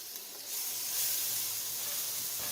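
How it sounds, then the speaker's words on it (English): Keto butter chicken ingredients sauté in a pan with a steady, close sizzling hiss that swells after a brief quieter start and holds evenly to the end. "I'll just let it saute for about 1 to 2 minutes here."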